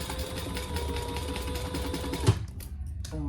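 A sewing machine stitches a 1/4 inch seam in a steady, fast mechanical whir that stops abruptly, followed by faint handling noise.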